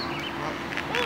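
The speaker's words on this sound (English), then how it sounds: "That's a duck." A duck quacks in a city park, a few short nasal calls rising over steady outdoor background and nearby voices of people talking.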